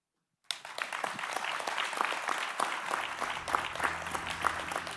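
Audience applause at the close of a panel discussion at a competition-law workshop in Seoul, starting abruptly and holding steady as dense, even clapping from a large seated room, with a faint low hum entering partway through.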